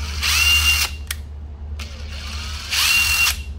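Used Japanese cordless drill on an 18V battery, whirring in two loud bursts with a short pause and brief blips between, a steady motor whine at each run.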